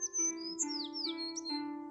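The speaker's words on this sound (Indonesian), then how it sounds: "ia mengobrol dengan seekor merpati putih" A white dove calls in repeated chirping phrases over a steady tonal hum, clear and fairly close.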